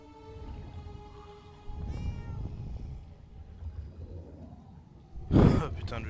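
A cat in the video game Murdered: Soul Suspect gives several drawn-out meows over low ambient game rumble, followed by a loud burst of noise near the end.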